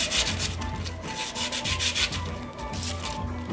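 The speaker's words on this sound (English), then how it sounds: "Just put it on a nice flat surface, give it a rub" A motorcycle brake pad is rubbed back and forth on a flat surface to clean it, giving a steady series of close, loud scraping strokes in quick rhythm with no talking.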